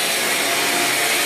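A Hoover Linx BH50010 cordless stick vacuum runs close by on a floor, a loud steady broadband rush with no breaks over the whole brief moment.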